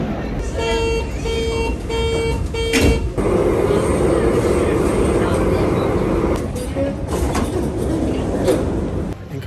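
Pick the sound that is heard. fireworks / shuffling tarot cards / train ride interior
train ride interior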